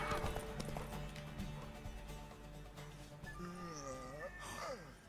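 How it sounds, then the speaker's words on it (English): A horse gallops in The Witcher 3, its rhythmic hoofbeats running under Spanish-speaking commentary, with game music and a rising whinny-like tone near the end. "aquí sí que se nota el vigor del caballo. Corre, corre."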